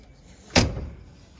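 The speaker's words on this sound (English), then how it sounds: "All the doors shut solid." A single solid thud as the door of a 1978 Trans Am shuts nearby, short and heavy with a quick fade.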